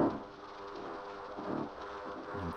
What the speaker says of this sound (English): somebody recorded the sound of fish